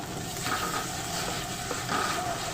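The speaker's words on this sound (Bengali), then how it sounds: "এখানে মশলাটাকে অল্প আঁচে কষিয়ে নিতে হবে।" Spice paste cooking down on low heat in a pan, a soft even sizzle with faint scraping strokes, steady and close, no voices.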